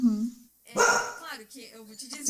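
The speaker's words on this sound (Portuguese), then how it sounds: "Desculpem o cachorro." A dog barks a few times indoors in the background while someone speaks Portuguese, the sharp yaps overlapping his voice during a class session.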